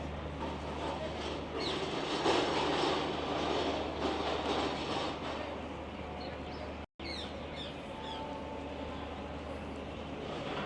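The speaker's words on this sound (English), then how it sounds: "You can actually hear, I think, the train station." Railway station traffic near Humayun's Tomb in Delhi: a steady rumble of a train and wagons with faint clatter, birds chirping high above, and scattered voices, continuous with a brief dropout.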